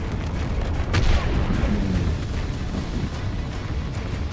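Massive pipeline explosion in the video game Fortnite, a continuous loud roaring rumble with a heavier blast surge near the start that settles into a sustained booming wash.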